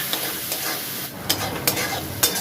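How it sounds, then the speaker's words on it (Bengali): Spice paste loosened with a little water is stir-fried in a pan for a Bengali fish-head chhyachra, giving a continuous close sizzle broken by several sharp spatula scrapes. "জলটা দিয়ে এবার মশলাটাকে এবার ভালো করে একটু কষে নেব"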